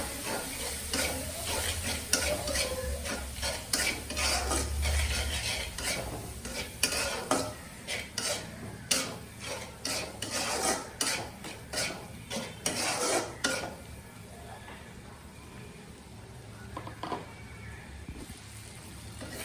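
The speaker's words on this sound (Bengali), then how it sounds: "দিয়ে দিচ্ছি রসুন বাটা, দিয়ে দিচ্ছি আদা বাটা, দিয়ে মশলাটা ভালো করে কষিয়ে নিই।" A spoon scrapes steadily as garlic and ginger paste fries in oil in a pan for a Bengali dried-fish and eggplant curry. Quick metallic scrapes and clinks repeat over a constant sizzle, and the stirring eases off toward the end, leaving a quieter hiss.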